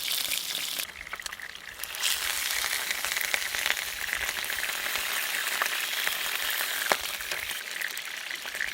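Sausage and peppers frying in a pan, a dense, continuous sizzle with crackling pops throughout, loud and close with no talking.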